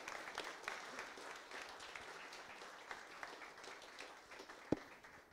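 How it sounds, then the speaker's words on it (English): Audience applause for the speaker Vojta at the close of a frontend development talk: faint, distant, steady clapping from a small crowd that continues throughout, with one sharp knock near the end. "Let's give one last round of applause for Vojta."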